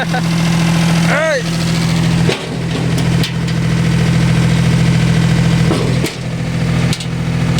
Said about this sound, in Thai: เสียงดังหน่อยนะครับ เครื่องยนต์สองสูบ